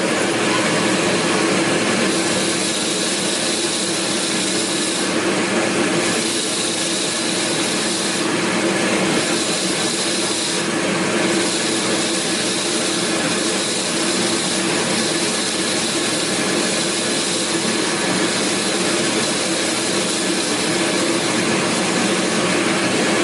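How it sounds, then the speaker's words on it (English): Harsh, loud, steady grinding and whirring of a wire wheel cleaning the brush of a Miele Scout RX1 robotic vacuum cleaner, continuing without a break and with only slight changes in pitch. "You're just touching the surface of the brush with the wire wheel."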